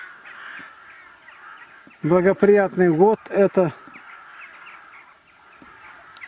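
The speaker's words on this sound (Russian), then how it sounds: "Я тут решил снять грачей." Rooks cawing in a large autumn flock over fields, a burst of loud harsh calls in the middle against a steady background murmur of distant birds, with someone speaking briefly.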